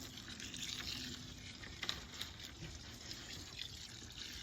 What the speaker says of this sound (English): Okay, we have our dry concrete mix. We're just going to add all of our water.